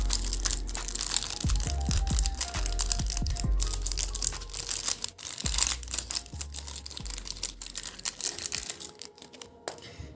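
Packaging for a set of Tachikawa G pointed calligraphy nibs being opened, with steady close crinkling, tearing and crunching of wrapper material and a few sharp clicks throughout, no voices.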